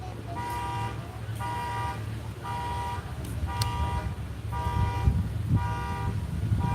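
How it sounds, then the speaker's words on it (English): Car alarm blaring from a pickup truck outdoors, repeating pulsed horn-like tones in regular bursts at moderate distance over steady background noise. "So now they set off the alarm on the pickup truck"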